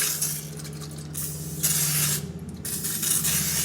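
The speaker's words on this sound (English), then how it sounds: "we're going to take a little cooking spray" Cooking spray hisses into a bowl for making country Italian bread, two or three short close bursts with brief pauses between them.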